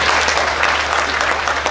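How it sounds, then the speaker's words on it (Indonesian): A church congregation applauds in a dense, steady wash of clapping that holds loud and even throughout, with no voices standing out. "Tepuk tangan bagi Yesus."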